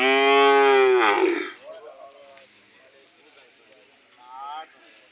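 A loud, drawn-out moo from Hallikar cattle up close at a cattle fair, followed by quieter voices and a second, shorter moo in the background.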